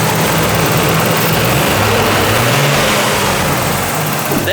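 A crusty, barn-find Nissan RB20 turbo engine from an abandoned R32 Skyline runs smoothly and steadily at idle, loud and close with a constant rumbling drone and no voices.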